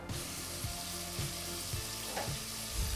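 Meat fries in oil in a pan, a steady, close sizzle with a few soft stirring knocks throughout and no talking.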